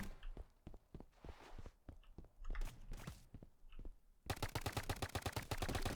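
Rapid paintball rifle fire in BIG Paintball 2, a fast rhythmic string of sharp, close pops that speeds into a dense continuous burst in the final seconds.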